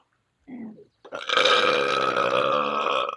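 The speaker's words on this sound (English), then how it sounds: "That was a killer burp." A long, loud, drawn-out burp, close to the mic and sustained for nearly two seconds after a brief vocal sound, deep and resonant with a steady rumble.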